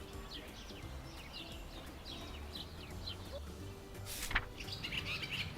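Sparrows chirp in quick, scattered bursts over a low outdoor rumble, with a busier flurry of tweets near the end.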